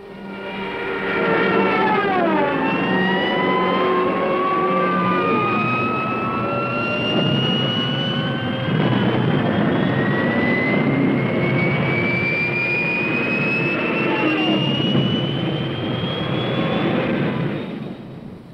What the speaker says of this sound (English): Rommel sends in Stuka dive bombers to blast the defenders from their emplacements